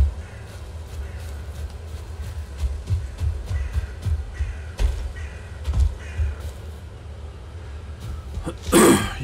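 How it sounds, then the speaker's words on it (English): Crows caw a few times in the Valheim video game, short scattered calls over a low rumbling ambient bed, ending with a louder burst of noise. "You can shoot the crows and the seagulls."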